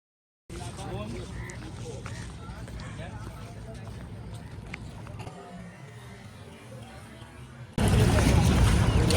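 A boat ride on open water near a beach, with a steady broadband rumble of engine and rushing water throughout that turns noticeably louder and harsher for the last second or so.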